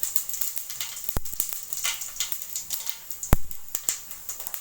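Mustard and fennel seeds spluttering in hot oil, a close run of sharp irregular pops and crackles over a steady bright sizzle, with no voices.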